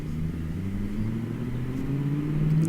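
Car engine revving steadily upward as VTEC engages, a near, continuous rising drone with no speech.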